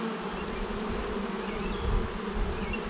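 Honey bees buzz around brood frames pulled from a hive during a Snelgrove-board swarm-control inspection, making a dense, steady hum close up.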